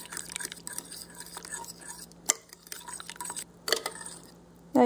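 A spoon stirs cheese clumps into a watery stroganoff sauce, giving soft wet scraping and dripping sounds with a few sharper clinks, fairly quiet and without talking.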